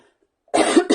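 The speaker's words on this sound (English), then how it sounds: "Excuse me for coughing, guys." A single burst of coughing after a brief silence, loud and close, with two or three harsh rasping pulses from someone crafting a birthday card and still recovering from a lingering cough.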